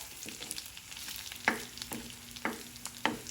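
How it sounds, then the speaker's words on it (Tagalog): Garlic dropped into a hot pan where longganisa sausage is cooking, giving a steady background sizzle with sharp clattering stirs or scrapes about every half second, close and fairly loud, no talking. "ihulog na niya yung bawang sibuyas"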